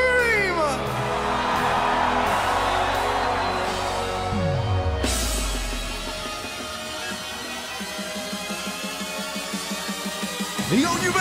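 Festival crowd at a Reading Festival electronic dance set screams and cheers loudly and continuously, a dense roar of voices mixed with pounding bass-heavy music and a rising synth sweep.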